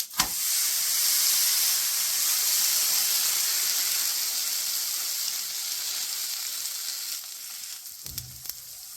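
Rava roti dough meets a hot oiled tawa with a loud, continuous sizzle and steady frying hiss close up, easing slightly toward the end amid a few clatters.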